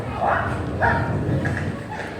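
A dog barks a few times in short bursts, moderately close, with some background noise between barks.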